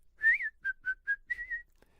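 Whistled melody in a radio medley, a clear human whistle with one sliding note followed by several short tuneful notes and a held tone, close and alone.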